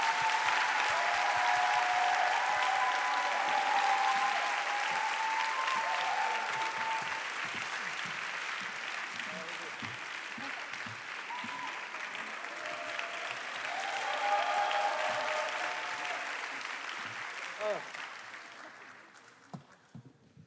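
A church youth service audience applauds to welcome guests in Korea, with sustained clapping from a crowd filling the room and tapering off near the end, with some cheering.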